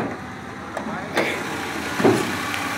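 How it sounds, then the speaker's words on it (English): A tow truck engine with new spark plugs and wires runs smoothly at idle, a steady low rumble close by, with a few small knocks and a voice speaking briefly. "Engine is on."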